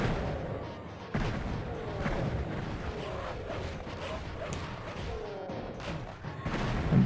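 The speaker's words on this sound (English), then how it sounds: "Let's plant some time bombs." Time bombs go off in the video game Heretic, a series of heavy blasts and crashing booms from the first second onward, loud and close, with a dense rumbling wash between hits and no talking.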